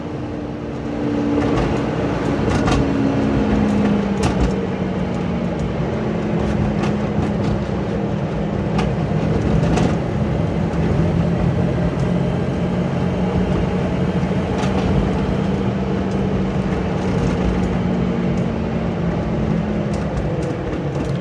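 A 1989 Toyota Land Cruiser drives along a bumpy road, a steady droning engine and road rumble with recurring clicks and knocks from the rough surface, constant and fairly loud from inside the cabin, with no talk.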